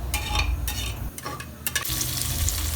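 Sliced onions fry in hot oil for ghee rice while being stirred, giving a steady close sizzle with brief scraping and stirring breaks.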